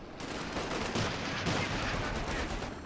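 Gunfire in the video game Company of Heroes 2 during a world championship match, a dense, steady rattle of shots with sharper bursts, heard close over a battle din with no voices.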